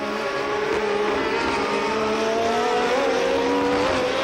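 Alain Prost's leading Formula 1 car at the 1981 Italian Grand Prix at Monza, heard as a loud, continuous high-pitched engine whine held steady throughout.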